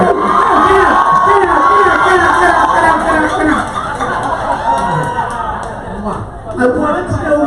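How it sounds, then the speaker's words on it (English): An audience at a RuPaul's Drag Race season 10 viewing party cheers, whoops and applauds loudly, a dense crowd roar with people talking and shouting throughout. "Everybody clap."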